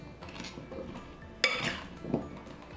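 A spoon stirs food coated in aquafaba in a bowl, giving a few soft scrapes and sharp clinks against the dish, close and fairly quiet.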